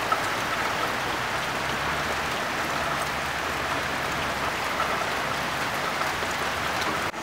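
Heavy rain falls in a continuous, even hiss with a faint low rumble beneath it. The rain stays steady throughout and ends with a brief bump.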